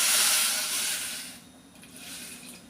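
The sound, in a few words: half cup of water poured into hot pan, hissing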